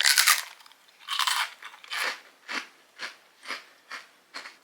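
Crunching bites of a seaweed rice cracker cookie, close to the mouth: a loud first crunch followed by a run of rhythmic, crisp chewing crunches, alone with no talking.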